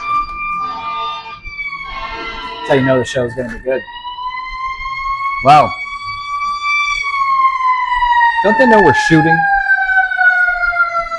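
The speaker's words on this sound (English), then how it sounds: "It is an ambulance and it is coming to the doctor." An ambulance siren wails and passes, its long tones sliding lower as it goes, loud and clear while people talk over it.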